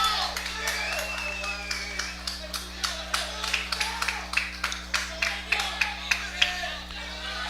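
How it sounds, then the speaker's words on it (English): Baseball team cheering from the dugout during a game, scattered claps and shouts at a distance, with rhythmic clapping growing sharper and more regular toward the end under a faint background hum. "That's the Eagles in the dugout cheering on Ryan Ongst."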